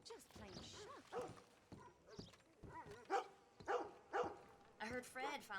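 Dog in Red Dead Redemption 2 barking in a string of sharp, separate woofs amid horse hoof clops and people talking, at moderate distance.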